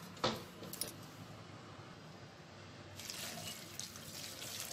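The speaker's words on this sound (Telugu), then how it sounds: "ఇదంతా ఒకసారి ఇలా కలుపుకొనేసి ఇందులో మనం నీళ్ళని వేసేసుకుందాము" Water is poured into a pot of fenugreek-leaf dal with turmeric, a soft running trickle with faint clinks at the start and a stronger splash toward the end, close by and quiet, with no voices.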